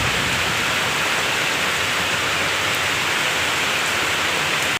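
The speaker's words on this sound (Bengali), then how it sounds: "কিন্তু ঝড় ওঠেনি, আজকে হচ্ছে খালি বৃষ্টি।" Heavy rain falling outdoors with no storm wind, a loud, constant dense roar of rainfall that runs unbroken until it cuts off at the end.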